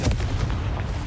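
Confringo fire spell from Hogwarts Legacy going off at a cave entrance, one heavy booming blast with a rumbling tail that fills the whole moment, loud and close, with no voice over it.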